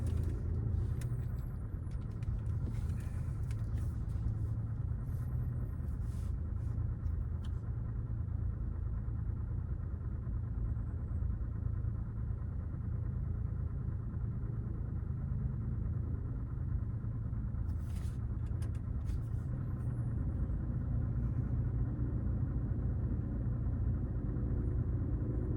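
A car engine runs steadily as the vehicle pulls away and drives, a continuous low rumble heard from inside the cabin for the whole stretch, with a few faint clicks and knocks near the start and late on.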